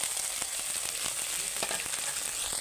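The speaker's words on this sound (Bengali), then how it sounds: "টমেটোটা দিয়ে হালকা নেড়ে এখানে তো মশলা নিয়ে নিয়েছি" Tomato and spices sizzle steadily in a hot pan with a continuous frying hiss, broken by short scrapes as the mixture is stirred, close and fairly loud with no talking.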